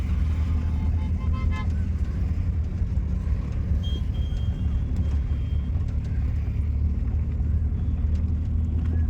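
A manual car's engine rumbles as the driver accelerates during a driving lesson, giving a steady, continuous low drone from inside the cabin at moderate loudness with no sharp changes.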